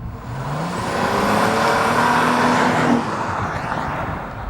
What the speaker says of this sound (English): Cadillac has done a fantastic job tuning the exhaust to really let that engine roar.